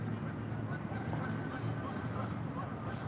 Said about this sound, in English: Man, them geese.